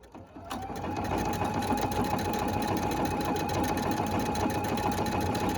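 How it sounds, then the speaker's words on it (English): A Husqvarna Viking sewing machine fitted with a candlewicking presser foot starts up and then stitches continuously with a fast, even mechanical whir, close and steady, no talking. "Now you'll notice that the stitches are being created and they are flowing very smoothly out the back of this foot"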